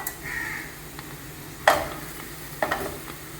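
Capsicum sautéed in masala in a pan gives a steady sizzling hiss, broken by two sharp, loud scrapes or clanks of a spatula against the pan, close and with no voices.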